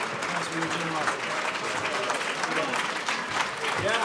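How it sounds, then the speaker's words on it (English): Applause from a wine tasting audience for a Château Montelena winemaker, steady clapping throughout with voices talking and calling out beneath it. "A big round of applause for Mr. Bo Barrett."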